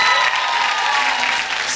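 Studio audience applauding a young singer at a children's Eurovision national concert in a TV studio; brisk, loud, continuous clapping throughout with no speech over it.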